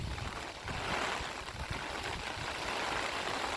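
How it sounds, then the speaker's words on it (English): Floodwater rushes through a roadside culvert and over a driveway during Hurricane Milton, a steady, loud, broadband roar that fills the whole stretch without a break. "we got some water coming."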